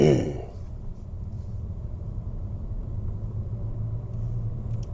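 A used 2015 four-cylinder car with 143,000 miles pulls away and drives, its low engine and road rumble steady and close inside the cabin after a brief louder onset, with no talking.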